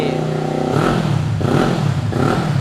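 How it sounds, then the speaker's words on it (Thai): A 2019 Kawasaki Ninja 400 engine runs at steady idle, then revs up and drops back in a few quick blips, with someone talking over it at close range. "รอบเครื่องยนต์นิ่งนะครับอัตราเร่งดี"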